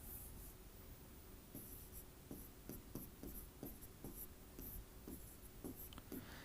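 Pen or chalk writing on a board or paper during a maths lesson: a series of short scratchy strokes in an irregular rhythm, close and fairly quiet against a faint room hiss.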